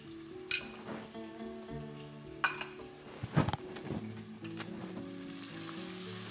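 Cumin and coriander powder sizzle in a hot pan while being stirred, with soft scraping and clinks of a utensil against the pan over a steady frying hiss.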